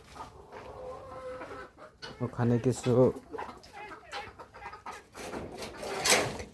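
Native-breed chickens in a backyard poultry setup cluck in short bursts close by, mixed with other farm birds, while a person speaks briefly.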